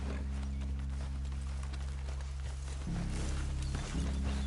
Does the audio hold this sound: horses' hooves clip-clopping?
yes